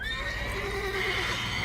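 A horse in the video game The Witcher 3: Wild Hunt lets out a brief, high whinny that wavers and falls, heard fairly clearly over a low background hum.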